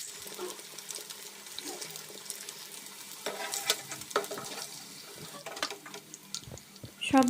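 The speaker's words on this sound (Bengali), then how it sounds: "সবগুলো বড়া ঠিক একই রকম করে ভেজে উঠিয়ে নিব" Prawn fritters frying in oil over very low heat, giving a steady close sizzle with scattered crackles and occasional clicks of a utensil moving them in the pan.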